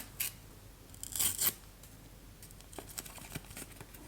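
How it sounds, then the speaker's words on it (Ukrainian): A paper packet crinkles and tears open close by, with a louder rip in the first second and a half, followed by softer scattered rustles. "Беремо наш пакетик і будемо його відкривати."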